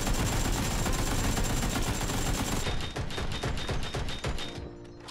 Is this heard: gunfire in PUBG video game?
yes